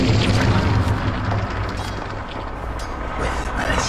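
Heavy booming impacts and crumbling blasts as a top tower is destroyed in Dota 2, loud and dense throughout with several sharp bursts over a rumbling bed.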